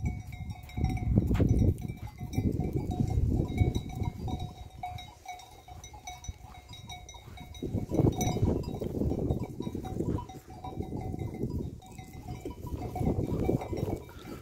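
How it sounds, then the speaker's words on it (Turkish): A flock of sheep on open ground gives a mix of bleats and clinking bells, the bleating rising in low bursts, moderately near, with bells ringing intermittently and no talk over it. "Şu karşıda da bir tane sürü var."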